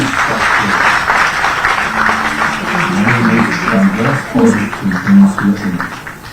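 Audience applause fills an official Satpura Tiger Reserve tourism event attended by the Chief Minister: a dense, steady wash of clapping that continues throughout, with a voice speaking over it.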